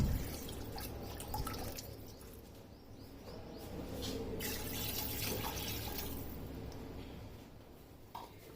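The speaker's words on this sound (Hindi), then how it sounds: "और साथ ही 2 कप पानी डाल देना है।" Water pours steadily into a pressure cooker holding mutton and yogurt, a soft continuous splashing and trickle that deepens slightly as it fills.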